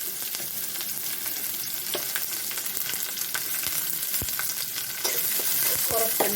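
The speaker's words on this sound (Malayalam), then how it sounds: "നമുക്ക് ഉള്ളി ഇട്ട് കൊടുക്കാം ഉള്ളി ഇഞ്ചിയും കൂടെ ഉള്ളത് ഇട്ട് കഴിഞ്ഞു പച്ചമുളകും" Onion, ginger and green chilli frying in oil for wheat upma, giving a steady close crackling sizzle with light stirring scrapes throughout and no voices.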